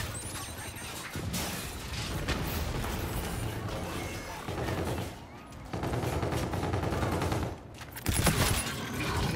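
Rapid bursts of automatic gunfire and heavy weapon blasts fill a hardcore team deathmatch of Call of Duty: Infinite Warfare on the Crusher map, loud and continuous with brief lulls between volleys.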